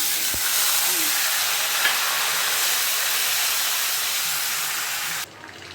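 Spice tempering of cardamom and cinnamon in hot oil sizzles loudly and steadily as asafoetida dissolved in water goes in. The hiss stays constant, then cuts off sharply near the end.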